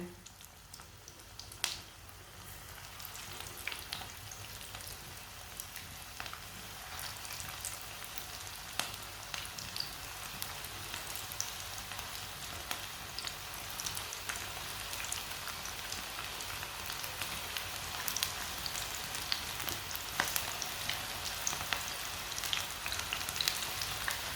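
Pakoras frying in hot oil in a shallow layer, a steady, dense sizzle with fine crackles throughout, close and even, no talk.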